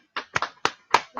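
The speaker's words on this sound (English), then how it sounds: "So can we give a little round of applause to Nilu" A few people clapping hands in a small studio, five or six sharp, distinct claps in an uneven rhythm, close and fairly loud, brief and sparse rather than a full round of applause.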